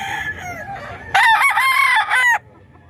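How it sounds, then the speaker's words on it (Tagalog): A large rooster, around 3.5 kilos, gives one loud, close crow lasting just over a second, with softer clucking and fowl calls before it. "Malaking manok."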